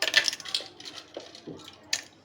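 Ice cubes drop and clink into a container for an apple-banana milkshake, several quick hard taps and rattles up close.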